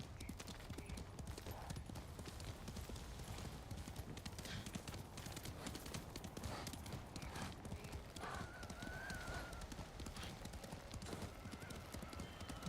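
Hooves of a horse galloping in the video game Ghost of Tsushima, a steady rapid clip-clop that runs throughout under game ambience, with a horse whinnying briefly.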